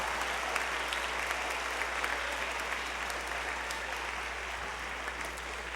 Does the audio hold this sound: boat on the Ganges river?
no